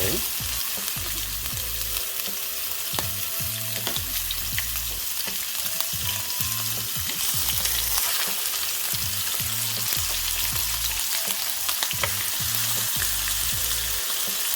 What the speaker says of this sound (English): we're going to get these babies cooked off, get them seared off, get them a nice brown color